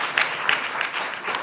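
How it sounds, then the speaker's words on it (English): Crowd applause follows a pitch at an HKU alumni entrepreneurs demonstration event, sustained clapping from many hands with a few sharper claps popping out near the start, fairly loud and unbroken. "let's give him a round of applause."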